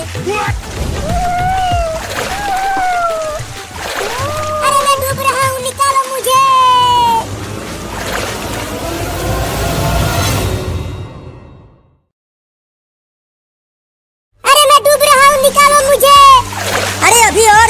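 A kitten is washed in a bucket of water, with splashing and sloshing mixed under children's voices. The sound cuts to near silence for a few seconds, then returns loudly with voices.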